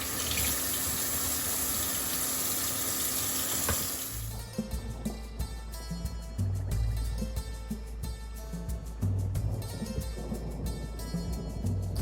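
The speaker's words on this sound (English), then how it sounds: "you're going to rinse the fish. Rinse le poisson." Raw fish is rinsed under a running kitchen tap, a steady hiss of water that changes to uneven splashing and gurgling as the fish meets the stream, close and continuous.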